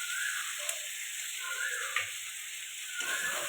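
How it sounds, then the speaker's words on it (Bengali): Crab pieces frying in oil until red, a steady close hiss of hot oil with a few small pops and faint clicks, no voices. "এইভাবে লাল লাল করে ভেজে নিই,"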